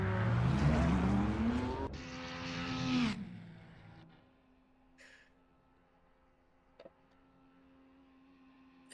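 A Ferrari race car in an NLS endurance qualifying session roars past loud and close with a sweeping engine pitch, sliding briefly, then fades into distant quieter engine hum with a few faint sharp sounds.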